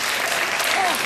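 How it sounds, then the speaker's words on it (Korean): Applause from a congregation at a girls' high school environmental worship service, a short burst of dense clapping that fills the whole moment at steady loudness. "큰 박수 해주시기 바랍니다"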